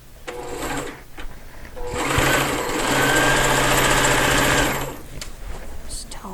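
A sewing machine back stitches along serged edges on dimensional fabric pieces in short bursts, then runs one steady, close stitching spell of about three seconds, with light handling sounds before and after.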